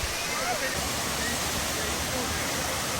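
Powerscourt Waterfall in Ireland gives off a steady, dense roar of rushing water. The hiss is loud and unbroken throughout.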